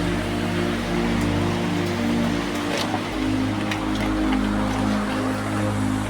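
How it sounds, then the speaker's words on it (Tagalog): Heavy rain pours steadily outdoors, a dense constant hiss of drops on surfaces with scattered sharper splashes, over a low steady hum in the background. "napakalakas ng ulan"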